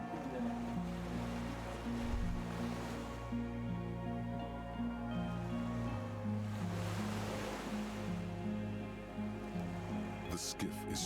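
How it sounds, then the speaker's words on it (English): Waves lap against a dock beside a swaying skiff in the video game Disco Elysium, a continuous rolling wash of surf over a low steady hum, with a brief faint clatter near the end. "The skiff is swaying on the waves by the dock."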